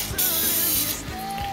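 Short hiss of spray over pita bread dough, brief and close, with light clicking and handling noises around it.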